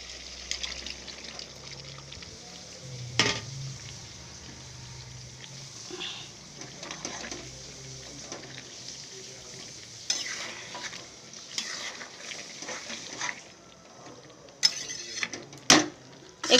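Potatoes and hot water going into frying mutton kosha in a pan, a steady low sizzle with stirring scrapes and several sharp clatters and knocks of utensils, close by with no talk.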